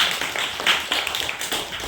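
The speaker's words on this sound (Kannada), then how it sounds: "ವೆರಿ ಗುಡ್, ಚಪ್ಪಾಳೆ." Applause from a classroom group after a team answers a maths question, a steady patter of hand claps at moderate level running throughout with no talk over it.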